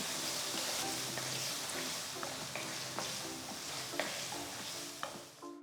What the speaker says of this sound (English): Saute the tomatoes till they become nice and mushy.